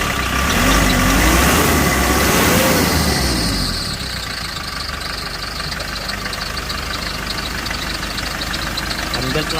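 A repaired Hyundai Porter 2 engine idles close up with a steady, even hum, now free of the earlier knocking and vibration, while someone talks over the first few seconds.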